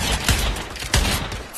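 Gun slam fire in the video game Pavlov: two sharp, loud shots about half a second apart, each with a quick ringing tail.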